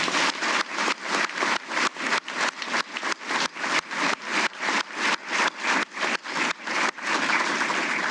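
Audience applause at a military change of responsibility ceremony, heard as a steady run of sharp, evenly spaced bursts through the whole stretch, fairly close and moderately loud, ending in a fuller wash of clapping.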